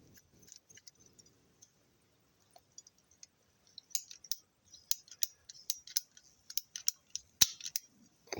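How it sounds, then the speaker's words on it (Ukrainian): Plumber's shears snip through a mango graft, giving a run of sharp, close metallic clicks and cuts in quick irregular bursts, with soft handling rustle before them. "Це ножиці для сантехніків."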